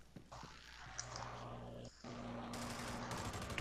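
Gunfire in a first-person shooter, sniper rifle shots among rapid bursts, loud and continuous, dense and close with a brief gap midway, with no voices over it.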